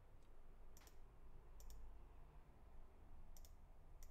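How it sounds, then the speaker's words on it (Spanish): Computer mouse clicks in a quiet room, a few faint sharp double clicks spaced about a second apart over low background hum. "Hago clic acá y cambio la imagen"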